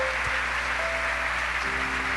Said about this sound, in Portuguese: Uma salva de palmas para a nossa doutora.